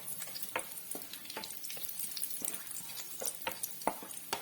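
Cashews, raisins, pistachios and almonds frying in hot ghee give a steady close sizzle, with sharp crackles and pops and occasional stirring scrapes through the pan.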